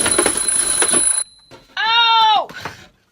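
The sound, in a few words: alarm clock ringing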